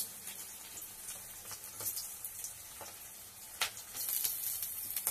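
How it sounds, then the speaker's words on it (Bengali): Garlic dropped into hot oil already sizzling with onion, cumin and bay leaf, a steady close frying hiss with small crackles and pops rising near the end. "এবার আমি দিয়ে দেবো রসুনটা, এই যে রসুনটা দিচ্ছি।"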